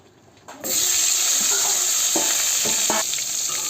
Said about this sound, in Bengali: মাছ ভাজা তেলটা কেটে রাখা বেগুনগুলো ভেজে নেব।